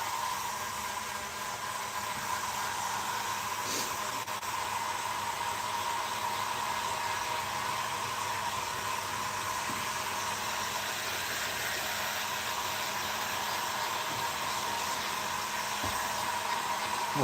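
Hair dryer blowing steadily on a freshly painted musky crankbait lure for a long, continuous stretch, loud and close with an even whooshing roar and no talk.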